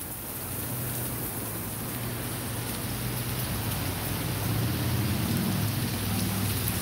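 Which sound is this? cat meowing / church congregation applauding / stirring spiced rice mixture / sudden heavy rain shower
sudden heavy rain shower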